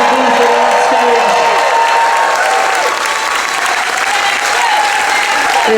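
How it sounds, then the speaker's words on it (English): Loud, continuous audience applause on a cruise-ship main stage honoring the tech crew, a dense steady wash with cheering and a voice speaking over it. "Keep your applause going for our entire main stage tech team in the booth and on stage."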